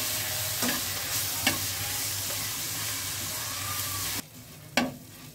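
Ginger-garlic paste and onion are stir-fried in a pan with a steady close sizzle, broken by a few sharp scrapes of a spatula; the frying drops abruptly quieter near the end before one last stir.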